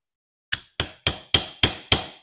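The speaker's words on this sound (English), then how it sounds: "Take your hammer, tap it down in, come from the other side." A hammer taps a spiral lock into a junior dragster piston six times in a quick, even rhythm, each tap sharp and ringing briefly.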